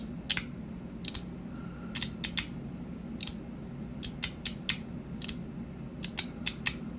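Crisp, sharp clicks from an Ant Design S-Nano fidget toy being turned, arriving in quick irregular bursts of single and double detents against a quiet background, with no talking.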